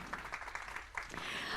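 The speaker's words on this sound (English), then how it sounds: "Why don't we give a big round of applause to welcome everybody here today?" Faint applause from an audience at the MM2.0 grand launching ceremony, a soft, continuous patter of many hands clapping that stays quiet and distant throughout.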